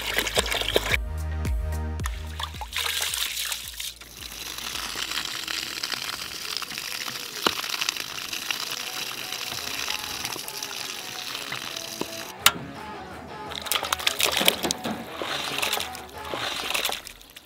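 Two slaughtered country chickens are washed in water at an outdoor forest cooking spot, with close sloshing, splashing and dripping as the meat is rinsed, soft and intermittent.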